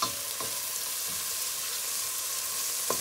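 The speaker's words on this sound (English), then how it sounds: "We're gonna give this a good mix, and we're gonna allow these to fry and mix in together." Shredded cabbage and carrot frying in a pan while being mixed, a strong continuous sizzle with a few scraping stirs of a utensil, close and alone without talk.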